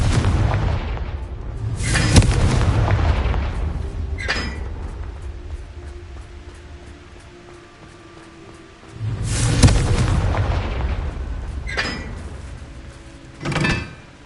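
Bombarda and Confringo spell blasts in Hogwarts Legacy: several loud booming impacts, two big blasts with rumbling tails plus sharper cracks between them, with no talking.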